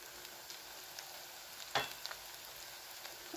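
Onions sizzling and frying in a pan for a curd-based arbi curry, a steady soft crackle with a few sharper pops and stirring clicks, close and fairly quiet.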